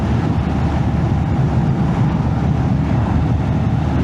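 Steady, heavy wind buffeting a chest-mounted microphone while riding a Honda Monkey motorbike with an open jacket, a constant loud roar with low rumble throughout and no talk.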